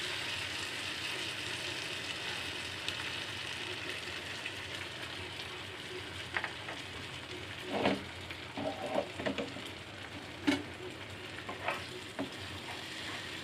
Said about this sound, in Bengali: পোস্ত বাটাটা এবার মশলার সাথে ভালো করে কষিয়ে নিতে হবে